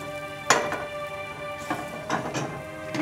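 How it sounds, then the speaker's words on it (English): An egg cooking in oil in a pan for Japanese-style fried rice, a steady sizzle broken by several sharp scraping and tapping strokes of a utensil against the pan as the egg is folded. "I'm going to fold this egg over, and then I'm going to put the rest of the egg in behind it"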